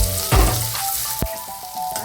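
Chopped onions, green chilies and curry leaves frying in hot oil in a pan, a steady close sizzle with a sharp burst of spitting as they hit the oil.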